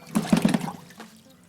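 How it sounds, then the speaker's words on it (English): Plain water pours into a container, with a short splashing gush that trails off into quieter dribbles within about a second. "If we fill our container up with plain water"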